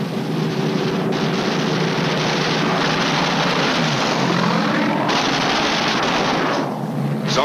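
World War II fighter planes dive on B-29 bomber formations over Japan in 1945, a loud, steady roar of aircraft engines with rough gunfire-like crackle mixed in, the drone swelling and shifting throughout.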